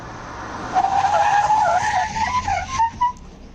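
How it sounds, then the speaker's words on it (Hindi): Tires skid and squeal loudly for about two seconds as a 2021 Toyota Corolla Cross brakes hard in a brake test, a sustained screech that fades into brief road noise at the end. "तो इस गाड़ी का ब्रेक टेस्ट भी करके अब आपको दिखाते हैं।"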